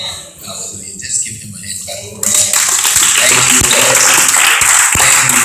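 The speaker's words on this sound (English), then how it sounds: "Just give him a hand clap." Church congregation breaking into hand clapping during a worship service; after quieter murmuring, dense loud applause starts abruptly about halfway and continues steadily to the end.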